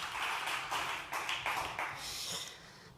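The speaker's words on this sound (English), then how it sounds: "Big applause." Audience applause at a conference stage event, a burst of clapping at moderate distance that swells and fades over a few seconds, with scattered individual claps standing out.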